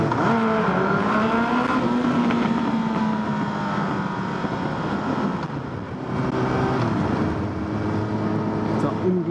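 A motor scooter on a city street revs hard and accelerates away, its rising, whining engine note climbing in pitch and staying loud throughout, with traffic noise around it.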